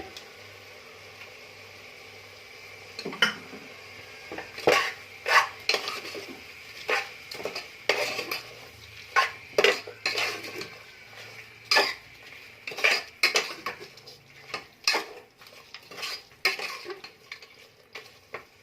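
Ground coriander paste stirred in a pan for vegetable biryani, with irregular metal clinks and scrapes of a spoon against the pan over a light sizzle, close and without voices.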